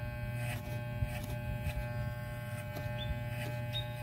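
A Walmart electric hair clipper buzzes steadily and close up while a skin fade is cut, a constant motor drone with light shifts as the blade swings on the angle.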